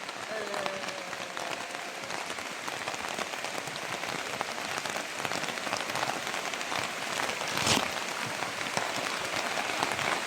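Heavy monsoon rain pouring during a fishing outing, a dense, loud, unbroken hiss of drops striking water and surfaces throughout, with a voice speaking under the downpour.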